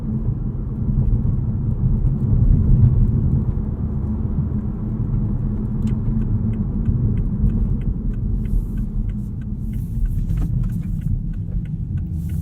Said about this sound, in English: Give you guys just a taste of what normal automatic driving is like here.